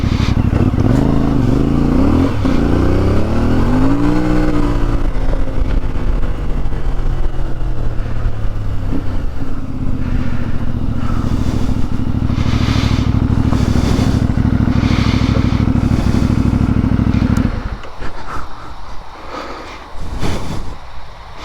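A CFMoto 450MT motorcycle revs up and down with rising and falling engine pitch, then runs at a loud, steady drone while riding before cutting off, with quieter rumbling afterward.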